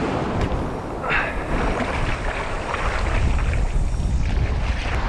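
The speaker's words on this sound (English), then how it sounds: "you can probably hear we've got a 30-mile-an-hour westerly wind" Strong 30-mile-an-hour westerly wind buffeting the microphone on a beach at night, a loud continuous low roar and rumble with gusts, no talking.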